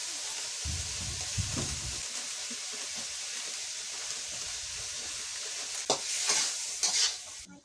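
Green beans seasoned with flavoring and salt stir-fried in a pan, with a steady close sizzle, scraping stir strokes and a few sharper clinks near the end, no talking.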